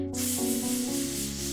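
A woman's vocal warm-up breath exercise: hissing S sounds run together into one continuous, steady, close hiss with no breaks between them.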